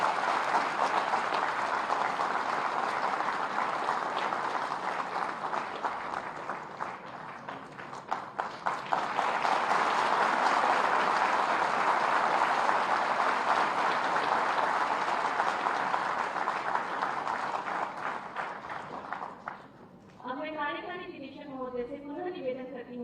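An audience at an inauguration of a blood centre and dialysis centre in Gorakhpur applauds in a dense, sustained wave of clapping that briefly dips midway, then fades as a voice begins speaking at the end.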